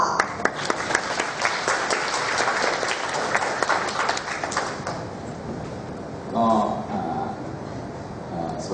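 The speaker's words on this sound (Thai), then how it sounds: "ขอเสียงปรบมือได้ค่ะ" Seminar audience applauding the chairman opening an international trade promotion event, a dense wash of clapping for about five seconds that fades, followed by a microphone voice beginning to speak.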